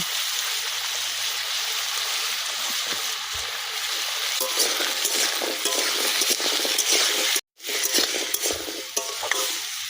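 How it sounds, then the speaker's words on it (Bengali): Rohu fish pieces tossed with turmeric and salt in a pan give a continuous close hiss and wet stirring, with one brief dropout near the end and no speech. "হলুদ লবণ ভালো করে মিশিয়ে নিয়েছি।"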